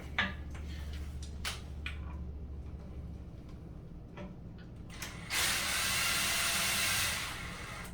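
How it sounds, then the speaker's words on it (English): Plastic nuts being hand-tightened onto toilet seat bolts against the side of a bowl, giving a series of soft close clicks and scrapes, then a steadier hiss-like rustle toward the end. "these use these plastic nuts like that. These are nice because once they start to tighten, they push against the side of the bowl"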